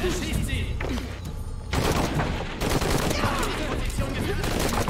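Dense, continuous bursts of gunfire and explosions in Shadow of the Tomb Raider, loud and chaotic, with voices mixed in among the shooting.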